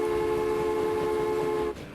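A passenger train in the railway game Transport Fever, set in 1861, rolls into its depot with a steady rumbling drone and sustained tonal ringing that drops off abruptly near the end, with no voices over it.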